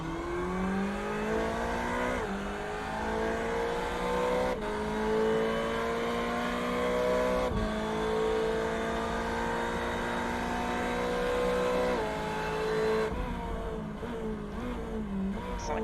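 A Ferrari 488 race car in the iRacing game, engine note rising through the gears with sharp shift drops as it runs up on a curb, loud and continuous, with faint commentary underneath.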